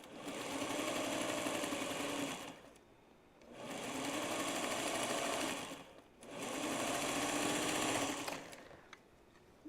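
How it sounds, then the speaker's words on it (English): A sewing machine stitches quilt rows together in three steady runs of rapid whirring, each about two and a half seconds long with short pauses between them. The machine is close and loud, and no one talks. "I'm going to stitch the first 2 rows together"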